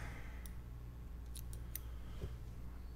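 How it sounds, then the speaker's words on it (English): Scissors cutting fly tying material for a brindle chute fly, a few crisp close snips spaced through quiet room tone with no talk. "I'm going to cut the back out"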